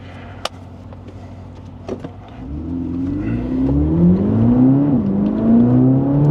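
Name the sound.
Chevrolet Corvette ZR1 2025 engine on race circuit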